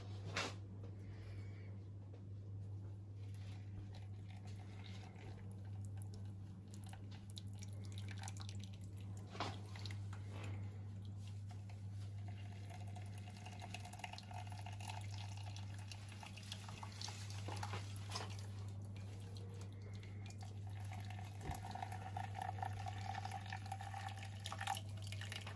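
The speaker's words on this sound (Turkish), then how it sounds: "Şimdi üzerlerine kaynamış sıcak suyumuzu koyuyoruz." Boiled hot water is poured slowly over filter coffee, giving a faint, steady trickle and a few drips over a constant low hum, with no voices.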